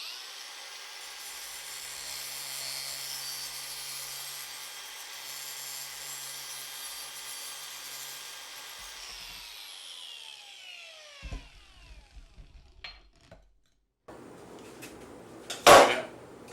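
A glass-cutting power tool grinding through glass with a steady high whine that winds down, followed by a few clunks and a sharp burst of noise near the end.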